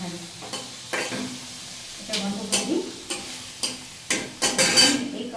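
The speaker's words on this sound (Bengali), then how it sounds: "শুধু একটু আদা কুচিয়ে আর কালো জিরা দিয়ে লাল শাকটা ভাজি করে নিলাম" Red spinach is stir-fried with chopped ginger, black cumin and a whole dried red chilli. Irregular scraping stirs come in short bursts over a light background sizzle.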